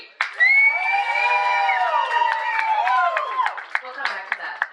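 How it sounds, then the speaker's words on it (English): An audience at a community event cheers loudly on cue with a sudden burst of shouts, whoops and high children's voices, then clapping joins and carries on as the cheering fades. "I want you to cheer as loud as you can"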